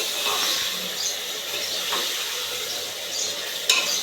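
Guar bean curry cooked country-style with tomato gets stirred in a hot pan, a constant hissing sizzle under steady spoon scrapes and a sharp clink of metal near the end, close by with no voices.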